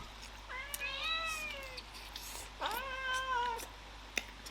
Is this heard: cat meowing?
yes